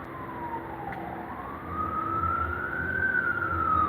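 A wailing siren rises and falls slowly, fairly close, over a low rumble of traffic, with no talking.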